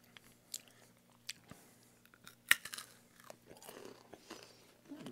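Chick-O-Stick peanut butter candy being chewed close to the mic, with sharp crunchy bites followed by softer, irregular chewing and smacking sounds at low volume.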